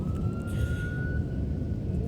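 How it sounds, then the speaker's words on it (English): A police siren wails steadily at a distance, a single sustained tone held across the whole short stretch over faint background noise, with no talking. "Siren is confirmation."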